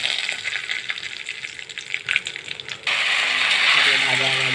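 Dry red chilli, black mustard seeds and curry leaves hit hot oil in a tempering for a vermicelli dish, giving a crackling sizzle that swells into a loud, steady hiss partway through.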